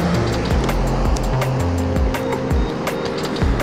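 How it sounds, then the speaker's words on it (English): A Kaabo Wolf King GT Pro electric scooter in single-motor speed mode accelerating hard on a road, with loud, close tire noise and a rising motor whine that falls and rises in repeated sweeps. "You can hear those tires ripping away."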